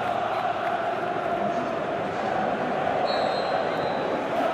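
Stadium crowd noise from the football video game PES 2019, Juventus vs Manchester United, makes a steady, loud roar that runs throughout with someone commentator's voice over it.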